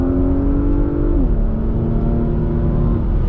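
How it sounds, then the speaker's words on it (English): A Porsche Macan Turbo engine pulls hard after a kickdown from fifth to third gear, a loud steady cabin drone whose tone dips once at the shift and then holds strong. "put my foot down, straight to 3rd, and it picks up straight away"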